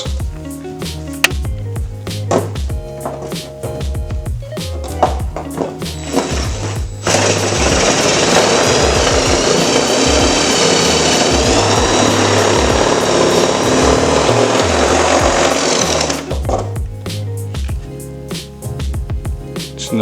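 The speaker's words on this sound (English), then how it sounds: "start cutting with the Dremel" Dremel rotary tool cutting a hole into a carbon fiber hood on a 2013 Civic Si, a loud steady high-pitched whine for about nine seconds between shorter bursts of handling and tool noise.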